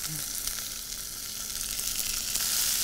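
Crayfish searing in hot olive oil in a pan, a steady, close, bright sizzle and crackle running continuously without pause.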